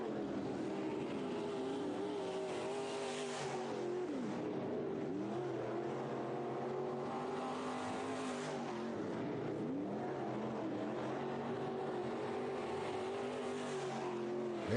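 IMCA Sport Mod race cars lapping Santa Maria Speedway in a hot lap session, engines droning continuously with repeated rising and falling revs as cars pass, heard from a distance with no pause.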